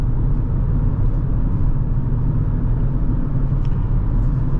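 A Jeep Trailhawk Elite's engine and single off-center exhaust give a steady, loud, low rumble while driving, with no change in pitch throughout.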